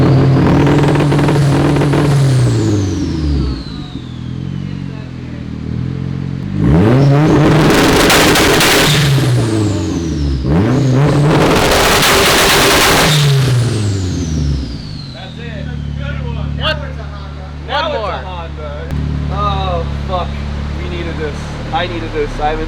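A 400-horsepower car engine revs hard and accelerates through repeated rising and falling pulls, loud and close, settling into a rough idle with short blips near the end.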